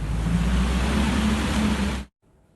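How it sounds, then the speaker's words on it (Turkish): Flooded Paçacık creek rushing after heavy downpour, a dense, steady roar of turbulent water close by that cuts off abruptly near the end. "Paçacık Deresi sağanak sebebiyle 3 hafta içinde ikinci kez taştı."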